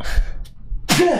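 A single sharp sneeze bursts out near the end after a brief hush, close and fairly loud.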